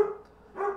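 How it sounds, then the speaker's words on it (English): A dog barks indoors, two short barks separated by a pause, moderately loud and close, with no talking over it. "And sorry about the dog."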